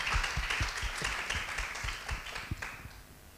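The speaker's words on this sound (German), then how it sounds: "Euer Applaus für das Panel heute Nachmittag." Audience applause for a panel on stage at a Düsseldorf conference, a steady wash of many hands clapping with distinct nearby claps standing out, moderately loud and without talk over it.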